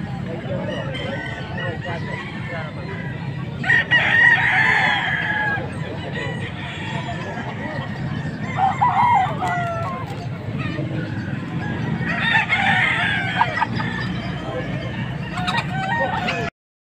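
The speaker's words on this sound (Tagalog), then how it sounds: "Mga full stag pa lang mga manok." Young gamecock stags crowing and clucking at a rooster market in Angeles, Pampanga, several birds calling in bursts over steady crowd noise, with people talking throughout.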